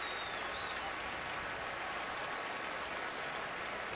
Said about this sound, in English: And polite applause from this Longhorn crowd.